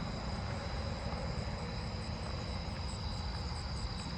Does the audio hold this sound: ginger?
no